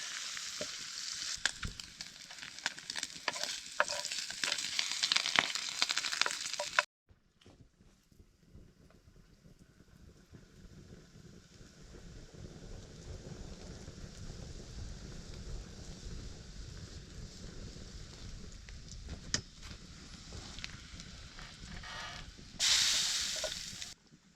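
Food sizzles and fries over an open campfire in the Canadian wild, a steady crackling hiss close to the microphone, with louder bursts at the start and end and no talking.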